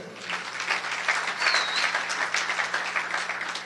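A church congregation applauding in praise during a worship service, steady continuous clapping from a crowd throughout, with a faint whistle or cheer rising briefly in the middle.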